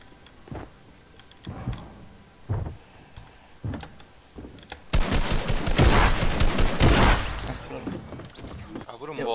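Rapid pump shotgun blasts and heavy gunfire in a team video game, first as scattered sharp bangs and then as a dense, loud burst of overlapping shots.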